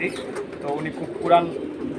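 Pigeons kept by a breeder selling young pigeons coo at close range in a loft, the soft rolling calls mixed with other bird noise and partly overlapped by people talking nearby.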